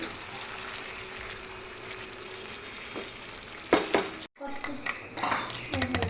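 A spoon stirs dal in a pot over a soft simmering hiss, then turns into clattering scrapes and knocks against the metal toward the end.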